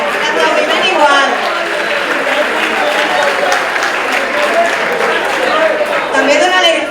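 Sustained applause from the audience at a 4th-year ESO graduation ceremony, a dense even clatter of many hands that carries steadily throughout with faint murmurs underneath.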